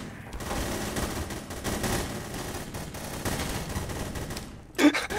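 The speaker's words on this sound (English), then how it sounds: "We're just gonna shoot everywhere." Rapid gunfire in the multiplayer shooter The Hidden, dense overlapping bursts of shots filling the whole stretch with a sharp louder blast near the end, players talking faintly underneath.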